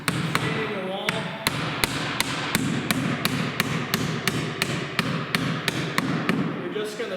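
Nails are hammered into cedar siding in a steady run of sharp, close hammer strikes at roughly even intervals, with voices talking underneath throughout.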